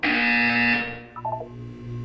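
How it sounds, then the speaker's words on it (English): A harsh, loud electronic buzzer from the test chambers of the video game Portal 2 sounds steadily for about a second, then cuts off, followed by a brief chiming tone pattern over a low hum. "You will hear a buzzer."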